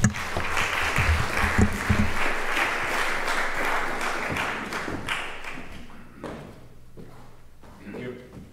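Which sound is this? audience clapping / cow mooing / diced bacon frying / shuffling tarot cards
audience clapping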